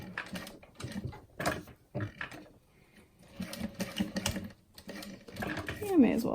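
A sewing machine stitches a fabric frame in several short, uneven bursts of whirring with brief gaps between them, and a voice talks across part of it.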